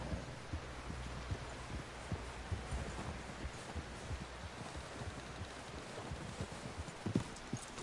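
Horse hooves clip-clopping in the Red Dead Redemption 2 video game, a faint steady rhythmic patter of hoofbeats over a low hum, with no voices.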